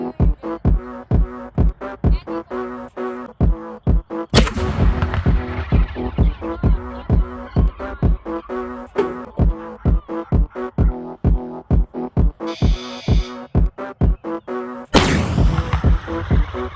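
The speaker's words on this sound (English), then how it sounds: "This homemade hail cannon is the culprit." A homemade hail cannon firing outdoors: a steady train of repeated heavy thumps, punctuated by a couple of louder, sharper booming blasts that ring out and decay.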